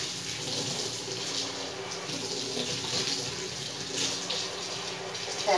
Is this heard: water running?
yes